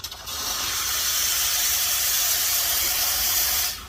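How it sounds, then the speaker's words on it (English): A powerful steam wand on a Quick Mill Rubino espresso machine hisses loudly and steadily for several seconds, with a sharp onset and an abrupt cut-off, close and without talk. "the Quick Mill Rubino has a pretty powerful steam wand"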